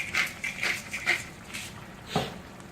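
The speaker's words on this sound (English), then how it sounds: "So I'm going to crack some pepper in it." Pepper is cracked from a grinder over a simmering tomato sauce, a few short, gritty grinding bursts in quick succession, faint and close, then a single louder knock near the end.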